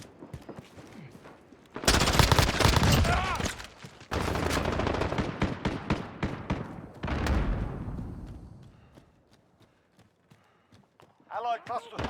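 Bursts of automatic gunfire in a modern military shooter game, loud and near, starting and stopping in several volleys with a player talking over and between them.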